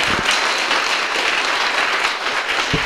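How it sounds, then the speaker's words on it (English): An audience at a Cub Scouts Blue and Gold ceremony claps in loud, dense, continuous applause throughout, with no voices rising above it. "give these guys a round of applause"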